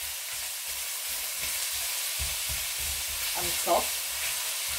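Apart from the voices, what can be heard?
onions frying in a pan for chickpea potato curry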